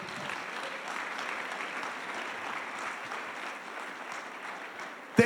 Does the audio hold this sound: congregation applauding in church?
yes